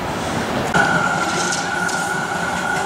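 The rumble of a Melbourne tram in motion, a continuous rolling drone with a brief squeal of wheels on track, heard from inside the car.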